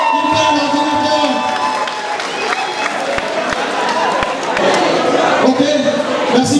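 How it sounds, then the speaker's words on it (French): A large crowd applauding and cheering in a noisy hall at a talent night, with a voice over the crowd and some thumps. "applaudissez pour lui"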